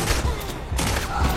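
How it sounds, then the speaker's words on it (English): Loud, rapid gunshots from a Volcanic gun in a video game, several blasts packed close together in a dense burst. "4 shots from a volcanic?"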